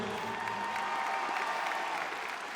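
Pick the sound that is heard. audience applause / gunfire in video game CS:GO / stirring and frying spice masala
audience applause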